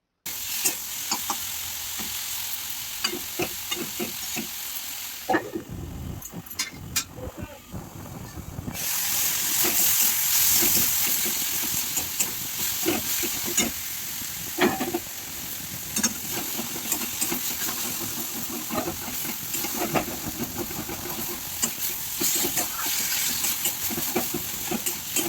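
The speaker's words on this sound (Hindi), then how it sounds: "टमाटो के भी बोलसे उल्टा पुल्टा फ्राई करमा" Tomatoes fry in a pan for Sambalpuri chati saag, with a steady crackling sizzle and hiss broken by stirring clatter and scraping over roughly 25 seconds, close and without speech.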